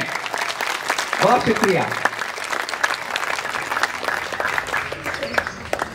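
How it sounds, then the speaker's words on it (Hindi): Audience applause at a cultural festival stage show, a dense, steady wash of many clapping hands. A voice speaks over it near the start, with a brief tonal sound underneath. "तालियां बजाएं और हमारा उत्साह वर्धन करते रहें"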